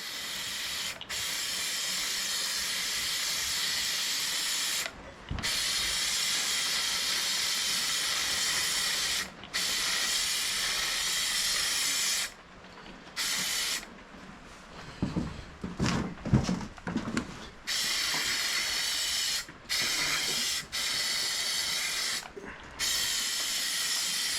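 Paint spraying onto parts of an MTD White Outdoor GT2550 garden tractor, a loud steady hiss in long bursts separated by brief pauses, with a stretch of clattering handling noise midway.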